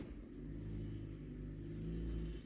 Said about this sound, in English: Somebody just distracted me by driving up next to my house.